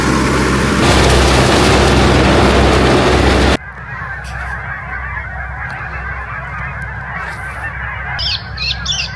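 Geese honk in flight overhead in an autumn outdoor setting, a dense loud burst of honking that cuts off abruptly, followed by quieter ambience and a few more distant honks near the end.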